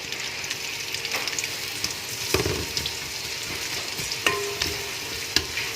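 Three sliced onions fry in oil over high heat, giving a continuous close sizzle broken by a few sharp spatula scrapes and knocks against the pan.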